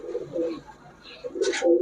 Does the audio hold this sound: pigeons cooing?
yes